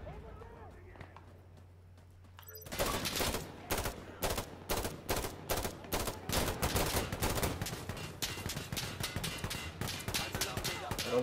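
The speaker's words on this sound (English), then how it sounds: "I don't know who's shooting at me." Gunfire in Insurgency Sandstorm on Xbox: after a quiet start, loud rapid bursts of automatic rifle fire break out nearby and continue in dense, ragged volleys with sharp individual cracks.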